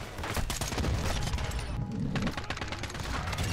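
A battle rifle in a video game fires on full auto, a continuous, loud, rapid rattle of shots that runs unbroken through the whole stretch, with heavy impacts mixed in.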